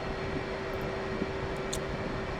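A jet aircraft taxis toward the runway in DCS World, its engine giving a steady, loud, even whine and rumble with no other sounds.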